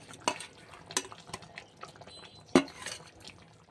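Fried potatoes stirred into kadai chicken in a pan: a few sharp, separate scrapes and clinks of a spoon against the pan, moderately close, with quiet gaps between them and no voices.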